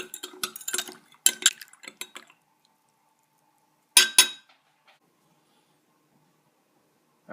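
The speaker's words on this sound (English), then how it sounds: "I take a little sugar in my coffee, so I'm just going to mix some of that in here" A metal spoon clinks rapidly against the inside of a coffee cup while sugar is stirred in, a run of close, bright taps, then a pause and one more short burst of clinks.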